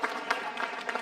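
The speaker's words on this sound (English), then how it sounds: "let's get another round of applause for our amazing" Audience at a community event clapping for guest speakers, a brief burst of steady crowd applause heard up close.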